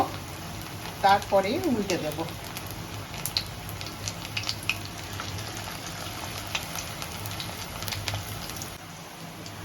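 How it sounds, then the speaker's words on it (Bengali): Onion pakoras fry in hot oil with a steady close crackle and sizzle, while someone speaks briefly over the cooking near the start. "একটু ভাজা হতে সময় দেব,"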